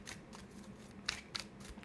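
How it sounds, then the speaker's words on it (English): Tarot cards being shuffled by hand, a faint, quick riffle of soft flicking and slapping with two sharper card snaps near the middle, close up and quiet. "As soon as we get like a hard shuffle or a resistance on this, or a card pops, we'll stop right there."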